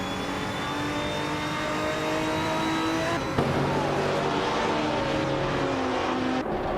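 A pack of race cars, a vintage 1999 BMW V12 in the lead against modern rivals, accelerating hard off the starting line: loud sustained engine roar with rising revs and a sharp gear change midway, close and continuous.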